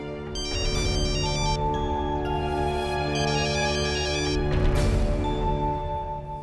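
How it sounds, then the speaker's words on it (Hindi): A phone rings with a melodic electronic ringtone, a loud and steady repeating tune that plays alone in a domestic scene. "नरसिंह का फोन।"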